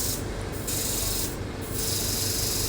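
An h600F Hydrafacial machine running, a dense steady hiss and rubbing noise with a low pulsing beat, briefly dipping twice in the upper range.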